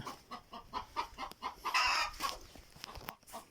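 Chickens on a rural backyard farm cluck in quick, repeated bursts, with one louder squawking call partway through, fairly close and heard alone without talk.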